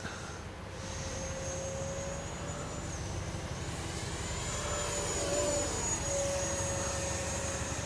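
Freewing F-22 radio-controlled model jet flying at full throttle, a steady whining ducted-fan roar with a high tone that shifts in pitch as it passes, continuous and moderately distant.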